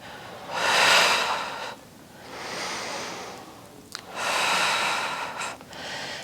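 Breathing during a Pilates reformer upper-body exercise: slow, deliberate exhales and inhales come close to the mic in long airy swells, about four breaths.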